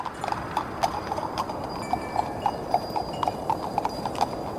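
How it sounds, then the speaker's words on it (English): Horse hooves clip-clop in a steady, fast trotting rhythm of sharp, moderately close knocks, with a faint steady hiss and a few thin high tones behind. "Go horses, run! Move those damn hooves"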